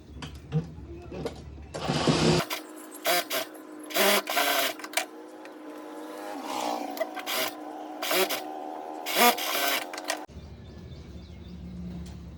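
A sewing machine stitching a baby girl's top, its motor whirring in short bursts of rapid stitching broken by pauses, with handling of fabric between runs and no one talking.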